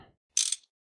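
Wrench used on a machine block in modded Minecraft (GregTech), a single short metallic ratcheting click burst, crisp and close, after a moment of quiet.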